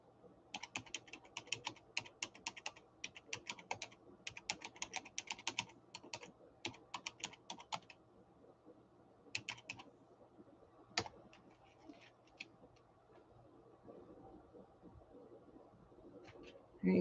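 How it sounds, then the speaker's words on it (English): Rapid, quiet clicking of keys on a computer keyboard comes in irregular bursts with short pauses, close by in a calm room, with a faint bird cooing in the background. "Let me type it for you, darling, okay?"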